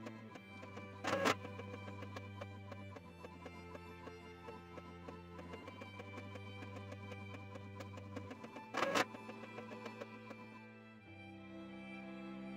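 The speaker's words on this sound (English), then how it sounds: "I will show you a little clip of my printer printing" Mechanical whirring and steady motor hum of a printer feeding and printing, with rhythmic clicks and two brief louder clunks along the way.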